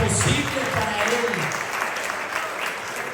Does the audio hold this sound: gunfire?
no